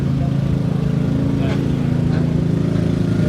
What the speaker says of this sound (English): And that is a diesel tractor.